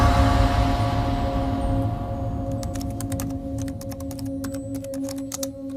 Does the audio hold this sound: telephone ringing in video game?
no